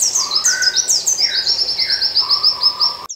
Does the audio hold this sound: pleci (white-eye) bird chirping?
yes